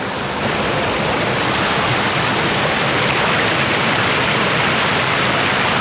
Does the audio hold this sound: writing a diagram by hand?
no